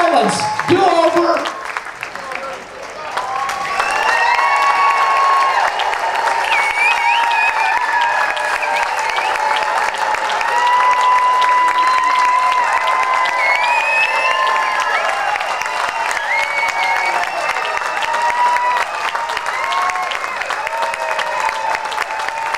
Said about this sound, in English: you're not supposed to let the applause die before I get back to the microphone